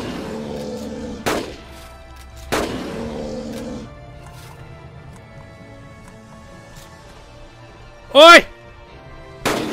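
Gunfire at dinosaurs in the hunting game Carnivores: Dinosaur Hunter Reborn: two sharp, loud rifle shots a little more than a second apart, then a later shot near the end, with someone shouting between them over a quiet game background.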